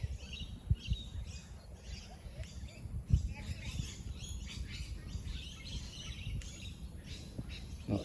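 Noisy miner birds calling in sharp, irregular chirps and squawks while mobbing an injured bird outdoors, moderately close, over faint background rustle.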